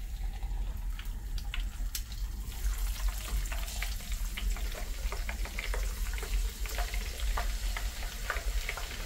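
Shelpek flatbread dough fries in hot oil, a steady close sizzle dotted with crackling pops and light scraping, continuing evenly throughout without speech.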